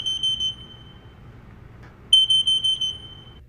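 Loud alarm notifier sounding a high piercing electronic tone, one brief burst, then a pause, then a rapid pulsing beep pattern close by.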